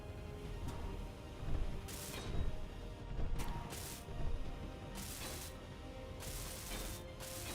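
Intermittent hissing, crackling bursts of a welding tool working on a battery in Space Engineers, recurring every second or so over a steady mechanical hum, with no voices.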